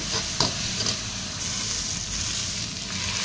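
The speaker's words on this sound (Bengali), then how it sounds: "রসুনটাকে দিয়ে প্রথমে অল্প 2-3 মিনিট তেলের মধ্যে ফ্রাই করে নেব।" Garlic paste frying in hot oil for an egg curry, giving a continuous close sizzling hiss with a few sharp stirring clicks near the start and no voices.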